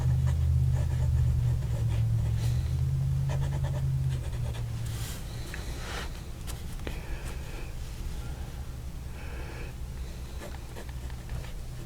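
Fountain pen with a black Fude nib writing on paper, a steady soft scratching throughout, close and fairly quiet, with low rumbling background noise underneath.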